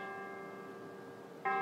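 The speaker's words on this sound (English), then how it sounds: "And here, my friend, are the bells." Bells toll on a radio show, a sustained ringing hum that fades softly and then swells with a fresh, louder strike just before the end.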